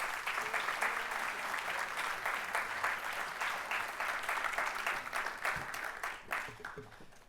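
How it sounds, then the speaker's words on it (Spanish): An audience applauds to welcome a speaker at the opening conference of a 75th anniversary congress, dense sustained clapping that holds steady for several seconds before tapering off near the end. "Lo recibimos con un fuerte aplauso."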